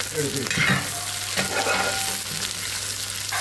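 Shallots drop into hot oil in a pan for prawn theeyal, a loud, steady sizzle and frying crackle with stirring scrapes, close up and uninterrupted, no talking.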